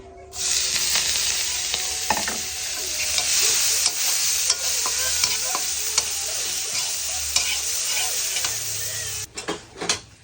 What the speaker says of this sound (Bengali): এদিকে আমি মাছ আর বড়ি সুন্দরভাবে ভাজা নিছি।